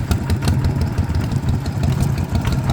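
A small diesel engine, an ET110 upgraded to 155, idles loudly nearby, a steady low chugging rumble with rapid rhythmic knocking that continues throughout.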